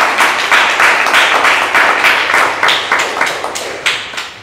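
A church congregation at a Sunday Pentecost service in Vienna applauds in encouragement, steady moderately loud clapping holding throughout with slight swells, no talk over it.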